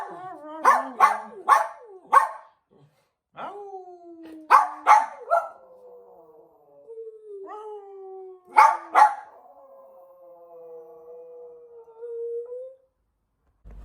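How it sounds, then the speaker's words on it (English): Dogs bark in clustered bursts and let out long drawn howls between them, loud and fairly close, with no talk. "You can hear the dogs barking"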